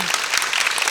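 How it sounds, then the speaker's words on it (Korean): A concert audience at a youth orchestra performance applauds in a steady, dense patter of many hands that fills the whole short moment. "우리 옆에 사람들을 위해서 박수 한번."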